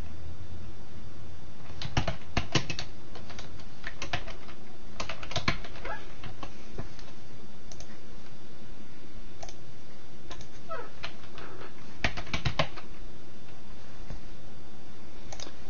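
Typing on a computer keyboard to enter a name into an online form: scattered clicks and short bursts of keystrokes at close range, with pauses between them and no voice.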